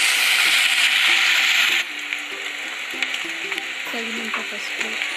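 Paneer with fenugreek leaves stirred in a frying pan, a loud steady sizzle at first that drops suddenly, then a quieter fry with scraping and light clinks of a spatula against the pan.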